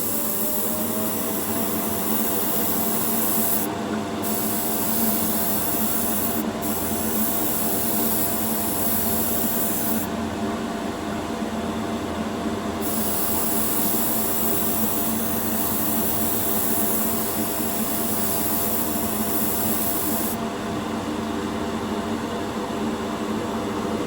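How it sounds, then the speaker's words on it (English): A fan drones steadily and close for the whole stretch, a broad even whoosh of moving air, in a hobby workspace during a 1966 Nova scale model paint job. "Let's get the fan on."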